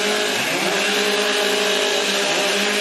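Chainsaws rev up and hold a loud, steady, high whine during warm-up at a STIHL Timbersports women's stock saw competition, with the engine pitch rising early and then sustained throughout with no talk.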